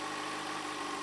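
A 2009 Yamaha FZ6 motorcycle with its stock exhaust idles close by, a steady, even engine drone with a smooth mid-range hum and no revving or voices.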